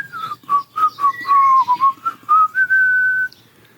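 A person whistles a short, lively tune nearby, choppy notes leading into a long held final tone, with no talking.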